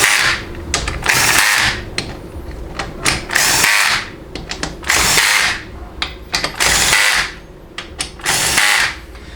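A low-power impact wrench drives bolts on a Chrysler A904 automatic transmission during rebuild assembly, with repeated loud whirring, hammering bursts of about a second each, separated by short pauses and ratchety clicks, up close with no talk.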